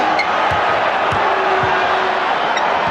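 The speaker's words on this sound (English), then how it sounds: "Charles Barkley hearing it from the crowd as he backs his way" An arena crowd at a 1993 NBA Finals basketball game between the Bulls and Suns jeers in a steady loud roar, with a ball bouncing faintly beneath and brief shouts rising out of the noise.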